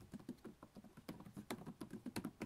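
Typing on the large, clicky keys of an HP OmniBook 7 14-inch laptop keyboard, a quick uneven patter of close, soft keystrokes with no talking.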